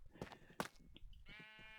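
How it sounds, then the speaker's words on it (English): Sheep in Minecraft bleat several times, quiet, brief wavering baas spaced apart, with one longer sustained bleat at the end. "You could hear so many sheep above me right now."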